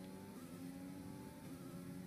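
An F1 race car engine in the F1 2020 video game drones steadily at a constant pitch, heard quietly and continuously throughout with no voices.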